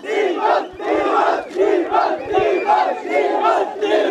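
Darshan fans gather for his 2019 birthday and shout together as a big crowd. The shouting stays loud and unbroken, with voices rising and falling in waves and no single speaker standing out.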